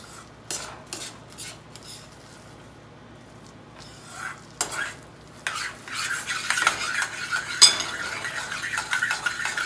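Beetroot halwa is stirred and roasted in a pan, a utensil scraping and clinking against the metal in irregular strokes that grow busier and louder, with a faint sizzle beneath.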